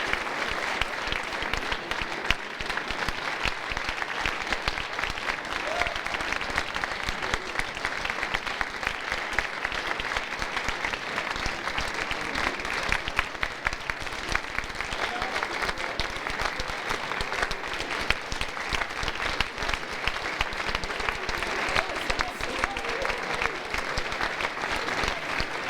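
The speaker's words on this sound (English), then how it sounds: "One final round of applause." A large audience at a university art unveiling ceremony claps in a long, even round of applause, many hands blending into a continuous dense patter with no speech over it.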